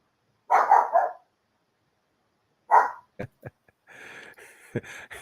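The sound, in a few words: dog barking at someone at the door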